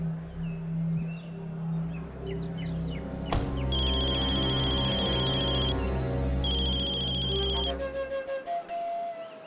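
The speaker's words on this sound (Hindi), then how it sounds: "कब से कॉल कर रहा हूँ, फोन क्यों नहीं उठा रही है मेरा?" A phone rings in bursts of electronic tones over a background music bed, the ringing starting abruptly, pausing and resuming before breaking into stuttering pulses near the end.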